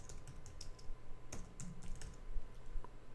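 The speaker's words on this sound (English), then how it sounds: "I'm going to hit the T key on my keyboard" Quick, irregular keystrokes tap on a computer keyboard nearby, crisp individual clicks in short bursts over a quiet background with no voices.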